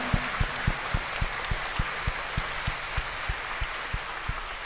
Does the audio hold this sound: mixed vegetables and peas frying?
no